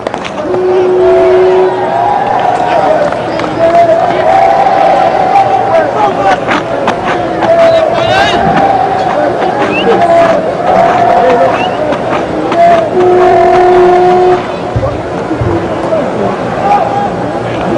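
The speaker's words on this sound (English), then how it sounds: "Nice crowd building up as well" Stadium crowd at a 2008 Australia versus West Indies one-day international cricket match, a loud, continuous hubbub of massed voices with scattered shouts and tonal calls rising above, under steady commentary.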